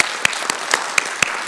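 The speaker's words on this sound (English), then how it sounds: "Please join me in giving a great round of applause to our fantastic guests." An audience at an art talk gives the guests a round of applause, steady dense clapping from many hands with a few sharp nearby claps standing out at regular intervals.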